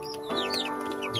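Chickens clucking near a coop, several short rising clucks and calls from close birds over a quiet background.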